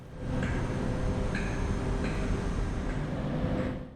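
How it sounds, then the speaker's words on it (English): A GWR Class 57 diesel locomotive rumbles steadily at the head of a sleeper train, a continuous broad drone with faint periodic ticks, close and even throughout with no talk. "Hauling us for the entire trip tonight will be this GWR Class 57 diesel locomotive."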